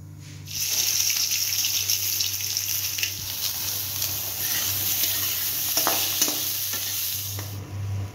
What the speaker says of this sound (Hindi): प्याज, लहसुन, अदरक और हरी मिर्ची और हल्दी मिर्ची ये सब मिलाकर थोड़ा सा पका रही हूँ